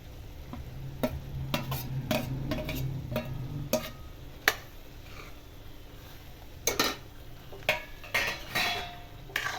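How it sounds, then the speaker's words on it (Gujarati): Roasted okra tipped into a hot pan and stirred with a metal spoon for bhindi masala, giving irregular scraping clinks and knocks against the pan over a faint background sizzle, close and moderately loud. "ગરમ કરેલા શેકેલા ભીંડા એડ કરીશું."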